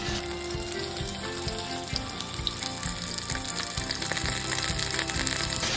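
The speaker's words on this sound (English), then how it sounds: "Pan-fry the liver in batches in a skillet or wok over medium-high heat for 2 to 3 minutes on each" Beef liver coated in potato starch fries in batches in a skillet over medium-high heat, giving a loud, continuous close sizzle and crackle of hot oil that rises slightly toward the end.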